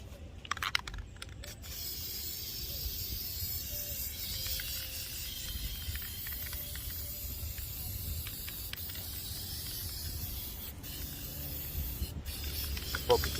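Plasti Dip aerosol sprayed as a third coat onto car emblems gives a steady, continuous hiss that runs for the whole stretch, with a few brief sharper bursts near the start and end and no talking.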